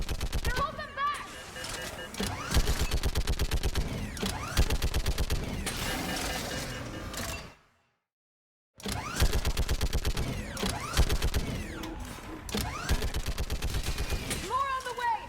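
A mounted gun in Mass Effect 3 blazing in long, dense automatic bursts, loud and close, with one brief silent break midway before the hammering fire resumes.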